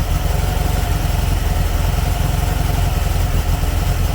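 A cold VW turbo engine idles while warming up, giving a steady, close, loud rhythmic chug with an even mechanical pulse and no voices over it.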